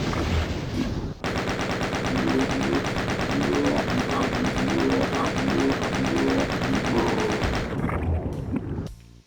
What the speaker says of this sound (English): Use our chain gun.